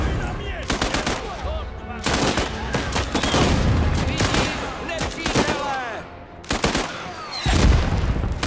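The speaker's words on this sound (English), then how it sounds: "Artillery is unrelenting. It's just going to keep pounding that same spot." Relentless artillery and machine-gun fire in the war game Last Train Home: dense bursts of rapid gunshots and heavy booms keep pounding, loud and close, with brief lulls between volleys.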